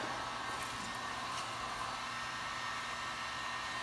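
A heat gun blows continuously while warming vinyl car wrap on a Shelby Rustang, a steady close airy roar with no pauses.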